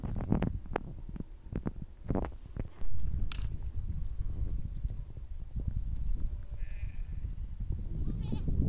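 Goats bleating on a high mountain pasture on Mount Ayachi in Morocco, with several calls and shuffling movement in the open air, then steady wind or ambient noise.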